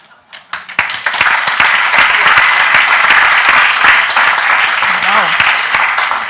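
A forum audience bursts into applause after a presentation, rising from a few scattered claps into dense, sustained clapping from many hands, with a voice briefly audible over it.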